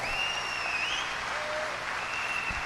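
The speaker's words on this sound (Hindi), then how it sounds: "जोरदार तालियों से स्वागत कीजिए" An audience at an Amway business event in India applauds steadily and loudly throughout, a dense wash of clapping with no pauses.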